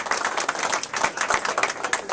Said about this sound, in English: If you can have a little round of applause for them.